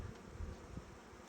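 Honey bees buzz faintly around an open hive as a colony is moved into a new hive box, a low, steady insect drone with slight pulses and no speech.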